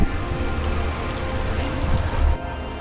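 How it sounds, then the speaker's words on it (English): Steady rain falls during a sailing trip from Cardiff to Watchet, a dense, continuous hiss of drops pattering on surfaces close by, with no voices. "It's been raining."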